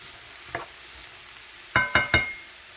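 Sloppy joe filling cooks in a deep pan under a faint sizzle, punctuated by one light tap and then three sharp, ringing utensil knocks in quick succession.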